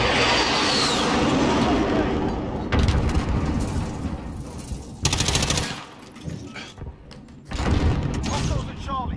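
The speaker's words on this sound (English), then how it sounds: "That airstrike." Airstrike explosions and heavy gunfire in the Modern Warfare video game, loud booming bursts and rattling shots filling the scene, with a few sharp blasts standing out and voices talking over the action.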